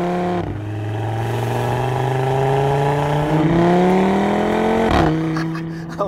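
An Audi RS3 Sportback engine with the optional sports exhaust revs hard and loud, its pitch climbing steadily through gears with brief breaks at each shift, heard up close and without talk.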